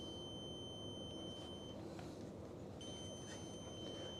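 An RO/DI Flood Guardian controller on a Red Sea 170 G2 aquarium setup beeps with a steady high electronic tone when the tank fills, sounding in two long held stretches over a constant background hiss.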